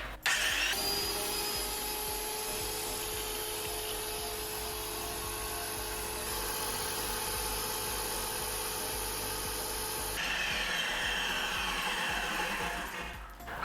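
A Graco Magnum X7 airless paint sprayer pump running with water, a steady loud motorized whine and hum that starts abruptly, holds for about nine seconds, then shifts pitch before winding down.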